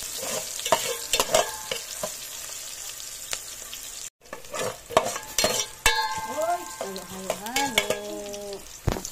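Onions sizzle in hot oil in a pan while a utensil stirs and scrapes, with frequent clinks and knocks, a brief pause midway, and a higher ringing tone near the end.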